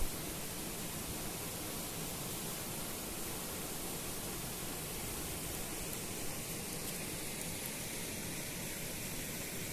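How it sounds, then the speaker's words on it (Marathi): Water rushing down from a height at a village waterfall near a dam, a dense unbroken roar that stays loud and even throughout, with no voices over it. "असा धबधब्याजवळ आलोय आणि एकदम वरून असा धावता पाणी"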